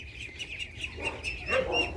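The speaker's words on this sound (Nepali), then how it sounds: "प्योर खाकी खाकी हाँस है, खाकी क्याम्बल।" Khaki Campbell ducklings, a few weeks old and kept on a duck farm in Kathmandu, make thin, high chirps. The peeps are soft and continuous, several birds overlap, and no one talks.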